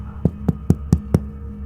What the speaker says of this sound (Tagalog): Parang may kumatok.